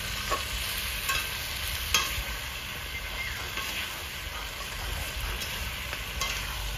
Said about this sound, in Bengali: একটু নাড়াচাড়া না করলে তো লেগে যাবে, একটু নাড়াচাড়া করতে হবে